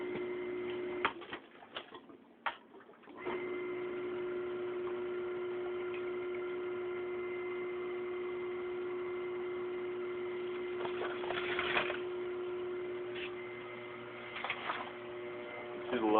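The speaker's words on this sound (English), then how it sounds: "So we'll go ahead and keep pumping these." Steady pump drone while waste vegetable oil is pushed through filter bags, a constant hum with faint intermittent talk and a brief dip early on.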